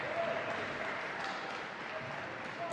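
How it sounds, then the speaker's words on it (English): A football crowd at Ashton Gate roars after a goal, a dense, sustained wash of cheering and applause that stays loud throughout, with speech mixed in. "The crowd goes wild."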